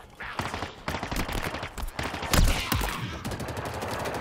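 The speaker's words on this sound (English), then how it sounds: "And of course, they have a turret." Rapid enemy turret gunfire from Halo Infinite's campaign, a sustained stream of close, loud shots with a heavier burst partway through, continuing throughout with no talking.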